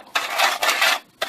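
Seasoning tossed into a metal tin and stirred around, giving bright clattery rattles in three bursts with short pauses between, close by.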